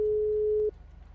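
A single steady electronic phone tone from an outgoing call in a roleplay video game sounds for just under a second, then cuts off, leaving a low background hum.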